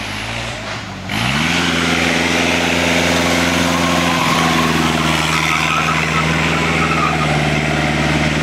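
A vintage hill-climb race car with a lean 35 horsepower pulls away and climbs a mountain road, its engine settling into a steady, buzzing drone that holds loud and continuous.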